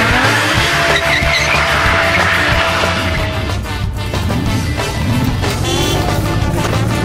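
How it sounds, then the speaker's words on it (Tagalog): A car revving hard and pulling away fast, with loud continuous engine roar and squealing tires that fill the whole stretch without any speech. "Romero, i-start mo na yan."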